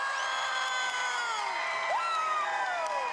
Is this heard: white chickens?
no